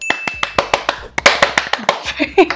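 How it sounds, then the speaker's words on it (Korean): Sharp hand claps repeat in a quick, uneven rhythm, close and fairly loud, with brief bits of voice near the end. "그 박수는 뭡니까?"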